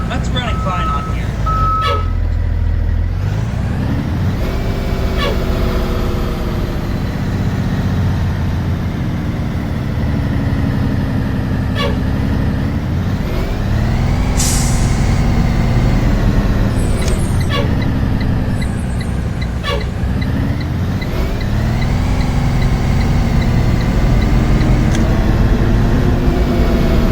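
A Blue-Bird GMC CV200 school bus with a new transmission drives along in the Rigs of Rods driving game, its engine droning loudly and steadily and rising and falling with gear changes. Sharp hisses and beeps break in now and then.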